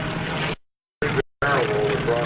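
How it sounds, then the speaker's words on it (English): Solo propeller airplane passing at a military airshow at NAS Oceana, its broad engine drone loud and steady, cut by two brief gaps before roaring back in full. "As the solo Ralph Glasser comes by"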